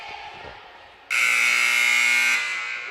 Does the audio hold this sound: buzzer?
yes